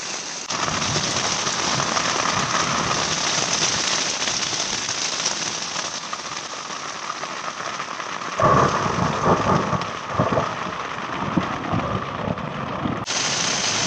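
Thunder rumbles through a thunderstorm on the Continental Divide Trail as steady rain patters on surfaces, with a sharp crack partway through and nobody speaking.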